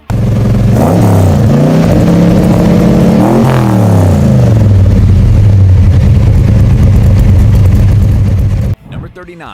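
A deep V8 muscle car engine rumbles loudly through its pipes, revving up twice with rising and falling pitch before settling into a steady throaty idle, then cutting off abruptly near the end.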